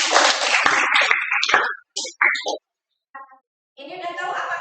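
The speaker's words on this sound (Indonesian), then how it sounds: "Oke, tepuk tangan ya." Clapping hands fill a classroom in a burst of applause, dense at first, then breaking into a few scattered claps before fading, followed by voices.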